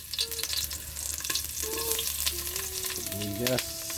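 A single clove of garlic frying in a pan of oil, giving a steady close sizzle with soft crackles, while faint voices or tones murmur intermittently underneath.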